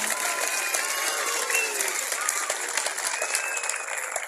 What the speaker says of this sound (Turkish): sevgili Çafat Halk Oyunları Zeybek ekibimize kocaman kocaman alkışlar lütfen.